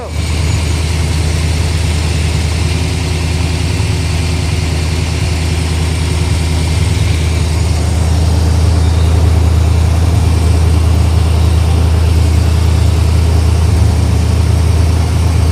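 A loud, deep small-block V8 engine idling with a rumbling, throaty exhaust, steady and close throughout, rising slightly in intensity partway through.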